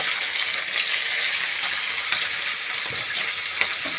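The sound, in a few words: small puti fish frying in oil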